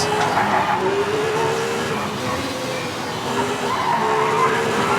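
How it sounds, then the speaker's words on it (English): A BMW rally car in the V-Rally 4 racing game drives at speed down a descent, its engine droning steadily while tires squeal and skid in long sustained streaks throughout. "this BMW is so much fun to drive"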